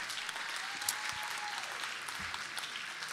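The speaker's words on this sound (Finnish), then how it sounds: "annetaan isot kädet vielä Miikalle" An audience applauds at a Finnish comedy roast of Esko Eerikäinen, a steady, dense wash of many hands clapping from start to end, with no speech over it.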